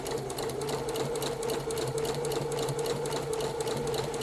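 Sewing machine stitching a contrast-colour line around a puff sleeve cuff, a steady fast mechanical whirr with a rapid rhythmic needle beat, close and continuous with no talking.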